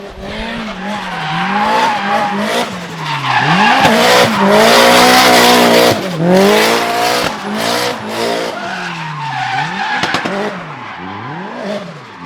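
Drifting cars slide through corners with screeching tire squeal and wailing engines, the howling pitch swooping up and down again and again, loud and continuous for the whole stretch.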